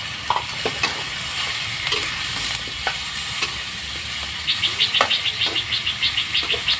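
Shallots frying in a hot pan during an outdoor morning cooking session, giving a steady crackling sizzle throughout, with occasional sharp pops and a run of quick rhythmic scraping stirs near the end.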